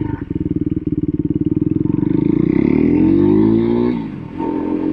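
A brand new Husqvarna 401 Svartpilen motorcycle engine revs up close, its rapid single-cylinder pulses climbing into a smooth rising whine, then dropping off and settling back to a steady idle.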